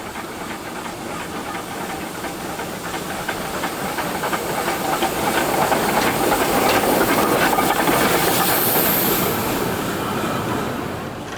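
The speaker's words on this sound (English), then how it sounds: "The locomotive number 4 is now ready to depart again and makes its way back" Achensee Railway steam locomotive number 4 departs beside a lake in Tyrol, Austria, with loud, steady steam hiss and rushing chuffing noise that builds and holds close by, with no voices.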